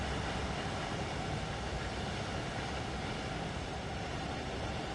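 A Freightliner Class 66 diesel locomotive in Train Sim World 4 gives a constant, dense rumbling roar of engine and rolling rail noise, steady and close throughout with no talk.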